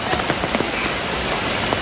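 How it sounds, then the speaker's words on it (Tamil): Heavy rain falls steadily in a hometown downpour, a dense continuous hiss of drops on surfaces with scattered louder splashes, close and loud throughout with no talking. "எப்படி வந்துட்டு இருக்கு பாருங்க மழை"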